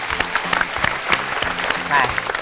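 Applause for two competing teams on a Thai youth show filmed at a temple in Phetchaburi, a short stretch of lively clapping from a group with a voice underneath.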